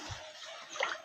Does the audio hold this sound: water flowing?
yes